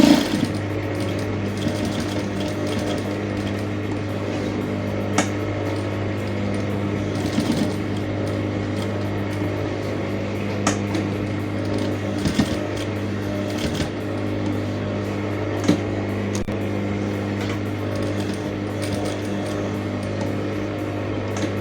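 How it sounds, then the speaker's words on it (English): A sewing machine stitches fabric for a neck placket, running steadily with a constant motor hum and rapid mechanical stitching clatter, close by, with a few small clicks along the way. "take it to your sewing machine and run a stitch like this"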